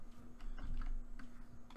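Rapid clicking of keys on a computer keyboard during a Madden 22 session, a steady run of quiet taps over a faint steady hum.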